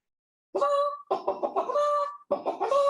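A human voice imitates a chicken clucking and squawking, in three loud, close, throaty bursts separated by short pauses.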